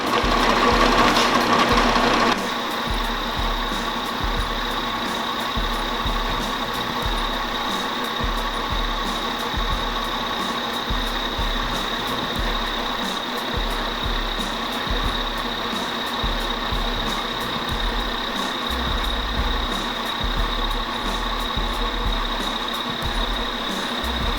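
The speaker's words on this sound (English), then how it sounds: "now we're gonna cut the slot" A power tool cutting a slot in a bracket for a dual supercharger pulley setup on a 302 engine, giving a loud, steady, high-pitched whine that runs continuously after a brief louder start.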